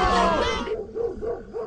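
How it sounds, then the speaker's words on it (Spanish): Dogs bark in a telenovela scene, a few separate rough barks sounding somewhat distant after a voice fades out. "Los perros están ladrando."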